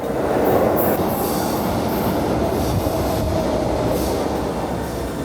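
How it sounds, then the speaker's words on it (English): A São Paulo metro train rolls into the station, a loud steady rumble of wheels and carriages with faint high squeals from the rails, continuous and close throughout. "Just chilling here, waiting for the metro to come."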